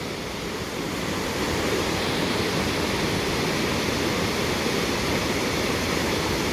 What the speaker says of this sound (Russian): Вот водопад.